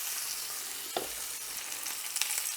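Lamb loin chops sear untouched in a cast iron skillet, giving a continuous hissing sizzle at moderate level with a couple of brief pops and crackles, and no voices.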